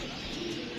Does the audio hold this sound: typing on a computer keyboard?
no